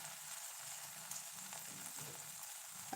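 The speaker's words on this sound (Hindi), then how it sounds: "अच्छे से फ्राई करेंगे" A pea and rice crispy snack frying in hot oil, a steady faint hiss and crackle of sizzling bubbles running throughout with occasional small pops.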